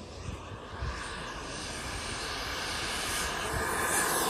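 An XFLY 80mm T7A FPV drone on a 6S battery makes a steady, fairly faint motor whine while it dashes left and right. The sound holds constant and rises slightly toward the end, with no voices.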